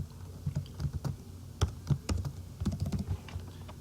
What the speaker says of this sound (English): but since I know the address, I'm just going to type it in.